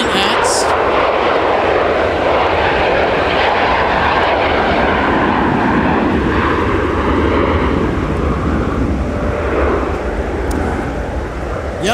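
Jet aircraft engines roar loud and close at Minneapolis–St. Paul Airport during a winter storm, a continuous heavy rumble filling the whole stretch and easing only slightly near the end.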